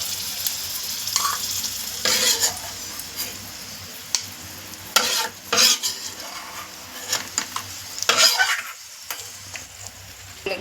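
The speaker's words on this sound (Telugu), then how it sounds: "ఇదే నెయ్యిలో సేమియా వేయించుకోవాలండి" Vermicelli fries in ghee in a pan while being stirred, a soft continuous sizzle broken by scraping strokes and metallic clinks of the spoon against the pan, close and with no speech.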